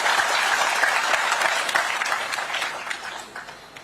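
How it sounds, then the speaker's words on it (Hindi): Loud, dense applause fills a hall at a cooperative-year event in Dehradun, sustained clapping from a large audience that tapers off slightly toward the end. "जोर से ताली मारिए"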